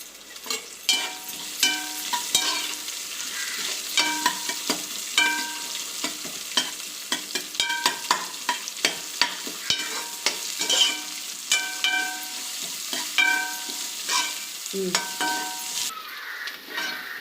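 Onions for crab gravy fry in hot oil in a pan with a steady sizzle, while a spoon stirs and scrapes in repeated strokes, loud and close throughout.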